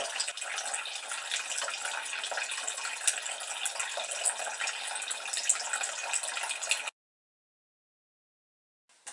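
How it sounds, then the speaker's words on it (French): Steady water jet from an angled, bent spout falling vertically into an indoor bamboo fountain, a continuous close splashing rush that runs for about seven seconds and then stops abruptly. "avec un bec verseur qui était coudé et le jet d'eau tombe verticalement"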